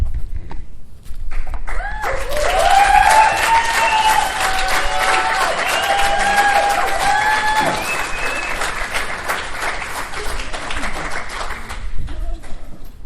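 An audience at a recovery talk breaks into loud, sustained clapping with some cheering and a few whoops. It starts suddenly after a brief pause and holds steady, with the occasional thump.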